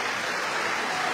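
Applause fills a session of the Italian Chamber of Deputies as a steady wash of many hands clapping, dense and even throughout, with no pauses and no voices on top.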